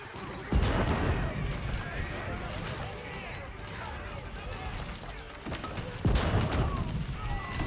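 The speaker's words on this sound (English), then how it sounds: "Bombard still firing away" Bombard cannons firing in Age of Empires 4, loud booming blasts near the start and again toward the end over continuous battle clatter, with a voice talking throughout.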